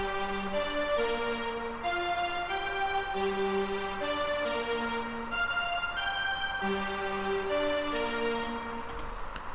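A bright trap lead melody plays a repeating sequence of short synth notes over a sustained pad, dense and continuous at an even, fairly loud level with no voices.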